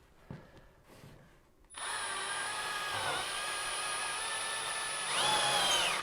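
A power drill bores through plasterboard and plywood when building staircase lighting. Quiet handling noises come first, then a sharp start into a loud, steady whine that runs unbroken and lifts slightly near the end.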